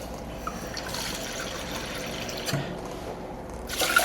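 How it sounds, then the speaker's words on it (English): Two cups of water poured into a pot holding half a cup of uncooked buckwheat groats, a steady close trickling pour that splashes a little louder at the end, with no talking. "Add 2 cups of water."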